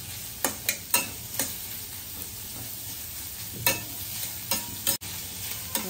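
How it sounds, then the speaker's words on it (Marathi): Onions sautéing in oil until lightly browned give a soft, steady sizzle, broken by several sharp scraping stirs of a spatula against the pan, close and without any talk. "थोडासा ब्राऊन कलर येईपर्यंत थोडासा हलकासा परतून घ्यायचा आहे आपल्याला"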